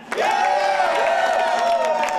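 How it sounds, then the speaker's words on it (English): People queued for the iPhone 5 launch cheering and clapping, a loud sustained crowd roar with whoops rising over it, close and continuous. "the line cheering like they're rock stars"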